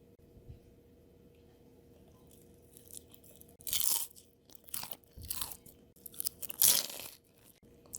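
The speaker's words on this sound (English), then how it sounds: "The banana is cooked and crunchy on the outside." Crunchy fried plantain snack, cooked crisp outside and soft inside, bitten and chewed close up: several loud crisp crunches spaced across the moment with softer chewing between, no talking.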